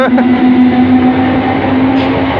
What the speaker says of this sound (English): the double header of 317s that swiped through the station